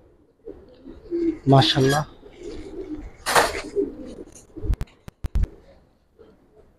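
Giribaz pigeons of the Palla line coo in a loft, with a few soft, throaty coos close by while someone speaks briefly, followed by several sharp clicks.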